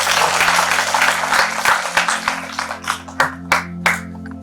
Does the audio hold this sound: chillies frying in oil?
no